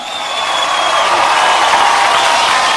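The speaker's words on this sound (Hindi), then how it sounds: "इसके लिए जोरदार तालियां एक बार" A comedy show audience breaks into steady, loud applause with cheering, a dense continuous wash of clapping that holds evenly from start to finish.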